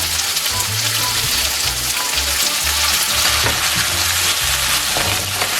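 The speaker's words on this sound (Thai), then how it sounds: "ผัดไปเลยนะคะ" A Thai dish being stir-fried in a pan, a steady close sizzle with scraping stirs, under a continuous layer of background music.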